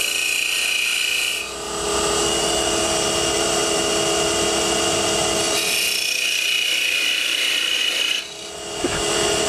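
Parting tool pushed straight into spinning wood on a lathe, giving a loud, steady rasping scrape that cuts out briefly twice before resuming, close and continuous.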